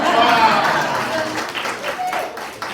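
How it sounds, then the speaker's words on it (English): A panel audience at a summit breaks into a steady wash of applause, mixed with crowd murmur and a few raised voices, gradually thinning over a few seconds. "Okay, we can applause now."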